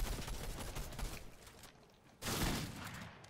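Rapid bursts of SMG fire in a Fortnite duo match crackle at moderate distance, easing off briefly before a louder burst resumes near the end.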